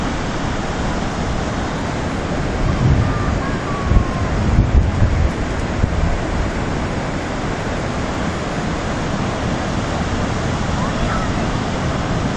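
Steady roar of surf washing onto a shore, broadband and constant with gusty wind buffeting the microphone.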